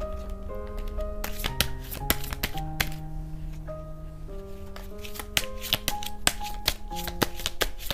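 Tarot cards are shuffled and drawn, giving rapid crisp slapping and riffling clicks in irregular bursts while a soft musical drone with sustained tones plays underneath.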